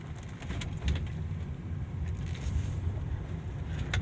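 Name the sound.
2008 Volvo XC70 driving on the road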